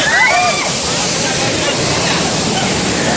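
A waterfall, the third in a series of falls, roars as a loud, dense, unbroken rush of water close by, with some sloshing at the start.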